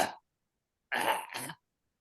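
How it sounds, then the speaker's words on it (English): A person gives two quick, rough coughs up close after a short breathy sound, and then the room goes silent. "Cough."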